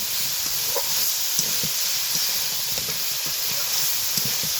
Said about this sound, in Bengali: এইবার সেদ্ধ করা সবজি তোমাদের দেখিয়েছি, এক এক করে সবজিগুলো দিয়ে দিই, কষিয়ে নেব।